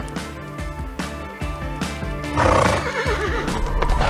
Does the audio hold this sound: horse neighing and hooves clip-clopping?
yes